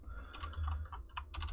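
Quick, close, soft keystrokes clatter on a computer keyboard in irregular bursts while someone types Python code, quiet overall with a low background hum underneath.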